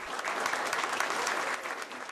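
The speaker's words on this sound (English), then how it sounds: "Senator Dodd made his grand entrance to an enthusiastic crowd" An enthusiastic crowd applauds steadily as a senator makes his entrance at a Democratic presidential campaign event in Pahrump, a dense, sustained clapping throughout.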